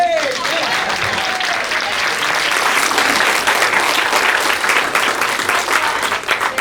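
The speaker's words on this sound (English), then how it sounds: "we need to give our color guard and Elizabeth Green another round of applause" A room of guests at a Business After Hours gathering at a car dealership applauds the color guard and Elizabeth Green, dense clapping at full strength from the start and holding steady, with faint voices mixed into the crowd.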